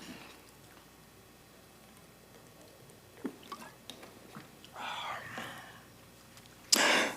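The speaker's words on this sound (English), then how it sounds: "I'm going to take a sip of water here." A person takes a sip of water during a city Board of Aldermen special meeting: faint quiet slurps and small liquid sounds, then a brief louder gulp or breath near the end, with no talking.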